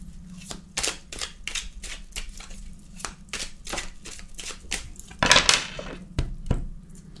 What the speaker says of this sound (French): Donc je vais mélanger les cartes.